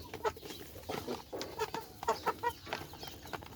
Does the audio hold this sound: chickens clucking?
yes